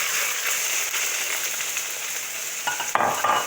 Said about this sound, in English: the sizzling of my meat